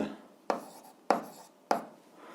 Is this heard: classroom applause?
no